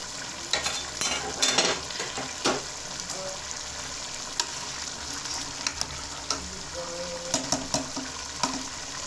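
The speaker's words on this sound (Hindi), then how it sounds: "चमचा बड़े एहतियात से हिलाएं ताकि हमारा चावल टूटे ना" Soft scraping and clinking of a spoon gently stirring rice in a pot of pulao, with faint sizzling and watery sounds underneath; occasional sharper taps stand out.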